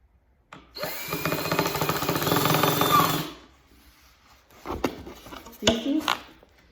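A power drill whirs loudly for a few seconds as it drives a screw while assembling an IKEA nightstand, then stops, followed by clunks and handling noises.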